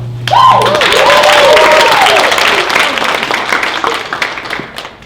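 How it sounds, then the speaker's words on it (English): Pageant audience gives a loud round of applause, steady clapping and some cheering that swells quickly and slowly tapers over five seconds, with a voice briefly heard at the start. "Round of applause for everyone, please."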